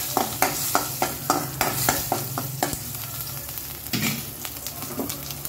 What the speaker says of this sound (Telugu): ఫ్రై చేస్తున్నానండి